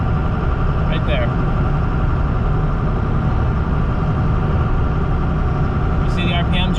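Second-generation Cummins truck diesel engine with fluctuating RPM, a dense continuous low rumble heard from inside the cab while driving, loud and steady throughout, with faint brief sounds near the start and end.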